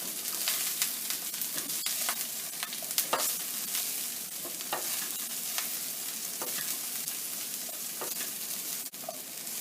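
Garlic and broccoli fry in a hot pan, a close, steady sizzle broken by frequent sharp crackles and scraping clicks as the pieces are stirred and flipped.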